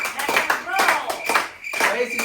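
Several people clap hands briefly at a round of a cup challenge game, a quick burst of close, uneven claps mixed with talking and laughter.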